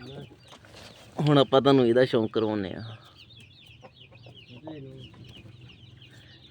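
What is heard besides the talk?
hens clucking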